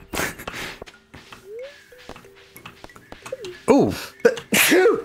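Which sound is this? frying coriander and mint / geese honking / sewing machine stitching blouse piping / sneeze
sneeze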